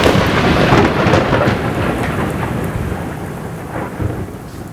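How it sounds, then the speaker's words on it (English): Thunder rolling through a thunderstorm, loud and close, with steady heavy rain pattering underneath, the rumble gradually easing over a few seconds. "I leave my computer outside to record sounds of thunder"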